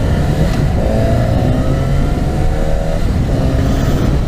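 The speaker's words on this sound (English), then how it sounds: "It's like all these cars, man, and they driving crazy" Close, loud road traffic heard from a moving motorcycle, with a constant engine drone and cars rushing past, a rising whine sweeping through mid-clip.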